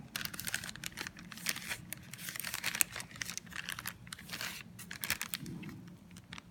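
A plastic bag crinkles and rustles close by as a small vial of vinegar is set inside it, an irregular run of soft crackles and crumples with no talk.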